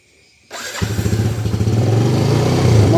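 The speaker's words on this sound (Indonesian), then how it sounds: "motor di start ya langsung hidup normal ya." Yamaha Jupiter motorcycle engine starting after a code 14 fault: a brief crank, then the engine catches and settles into a loud, close, steady idle that rises slightly toward the end.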